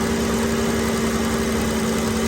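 A BMW engine runs steadily under a loud, constant drone of a fast-spinning cooling fan moving air, with a continuous mid-pitched hum and no rise in revs evident, no voices.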